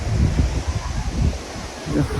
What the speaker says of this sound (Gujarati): ફૂલ પવન છે અત્યારે પવન ફૂલ છે થોડોક ઝરમર જેવો થોડો વરસાદ છે